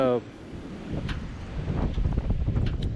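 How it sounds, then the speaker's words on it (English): Wind gusts buffet the microphone outdoors on a farm during tractor work for cabbage planting, producing a continuous low rumble under a man's speech. "That wind, I apologize, guys."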